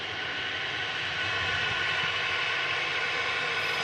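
A single-engine propeller airliner taxis to the gate at an airport, giving a loud, steady droning engine roar that carries on without a break.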